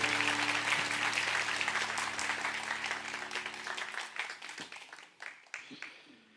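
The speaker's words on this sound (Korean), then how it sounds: "박수로 축복하겠습니다." Church congregation applauding in a blessing, a dense sustained round of clapping that thins into scattered claps and fades out toward the end.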